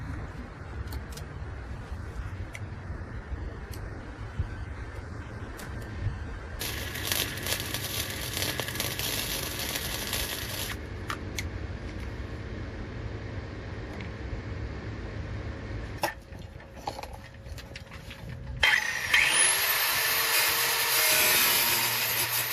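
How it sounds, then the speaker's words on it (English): Washers being welded onto the end of a cut threaded rod for an RV motorhome spare tire carrier, with two sustained, harsh, crackling bursts separated by quieter stretches of low background noise and no talking. "now I'm about to weld some washers on the end of it"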